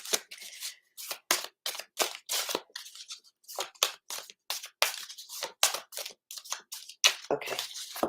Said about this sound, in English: I think that's shuffled enough.